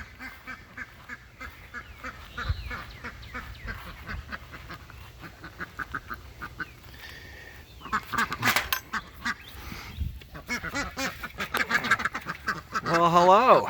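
Backyard ducks quack in bursts over several seconds, growing louder and busier toward the end, while a person talks to them intermittently.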